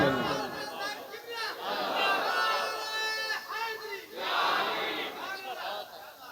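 A gathered crowd at a religious speech shouting a slogan in unison in response to a call of Naara-e-Takbeer, loud rising waves of many voices in a few bursts.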